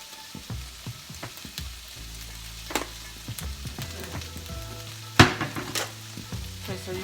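Chicken seasoned with seasoning salt sizzles in a pan while a utensil stirs it. The frying hiss stays steady, with clacks and scrapes recurring and one sharper knock near the end.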